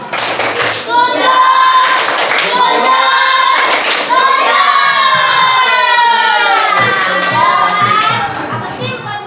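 A group of elementary schoolchildren in an Indonesian classroom clap and chant together in a loud, rhythmic class clap, voices shouting in unison close by.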